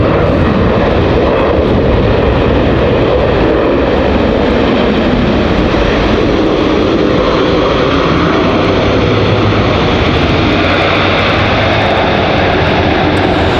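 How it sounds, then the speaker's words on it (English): Southwest airliner touching down at Raleigh-Durham International, with loud, sustained engine roar and rushing noise close by, no voices. "So Southwest touching down."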